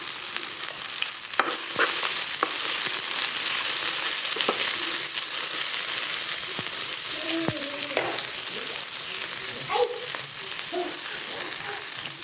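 Okra (bhindi) frying in a pan on a home gas stove, a steady dense sizzle throughout with occasional clinks and scrapes of stirring, close and fairly loud, no voices.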